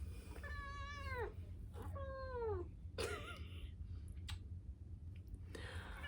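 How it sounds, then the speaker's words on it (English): A cat gives two clear, drawn-out meows close to the camera, followed by soft clicks and light tapping in a quiet room. "today we have a cat messing with the camera"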